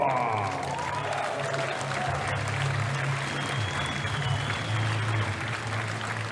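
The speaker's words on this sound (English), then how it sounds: "Give a round of applause and welcome to the stage" An audience at a super heavyweight arm-wrestling event claps in steady, dense applause, with crowd noise and an announcer's voice under it throughout.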